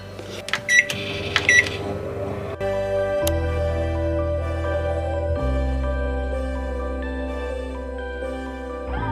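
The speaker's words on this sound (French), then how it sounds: "je vais aller mettre ça dans le micro-ondes parce que c'est plus rapide" A household microwave oven running steadily while melting wax, a continuous loud hum with tonal whine that shifts pitch a couple of times, after a few brief clicks and beeps at the start.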